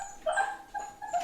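A pet dog whimpers and cries close by in a quiet indoor room, three or four short high-pitched whines in quick succession, with no talk.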